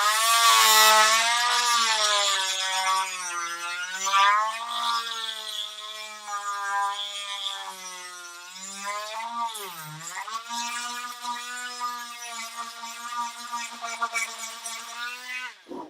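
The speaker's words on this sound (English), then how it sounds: "we are really going to have to Dremel this guy out" A Dremel rotary tool cuts into a toy action figure, a close, high whining tone that rises and dips in pitch as the bit bites and eases off, running almost continuously.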